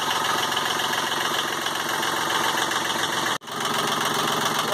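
A Yanmar 30 hp marine diesel idles steadily at roughly 900 to 1,000 rpm after a cold start, a continuous close rumble from under the cabin stairs. It cuts out very briefly once, then the rumble resumes.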